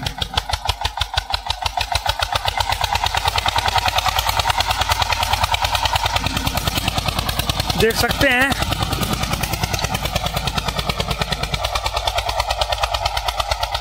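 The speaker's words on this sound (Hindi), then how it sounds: "बहुत भयंकर परफॉर्मेंस आ रही है ट्रैक्टर की," An Eicher 241 tractor pulling a cultivator through wet field soil chugs with a loud, rapid, steady engine knock nearby, briefly rising midway, as someone talks over it.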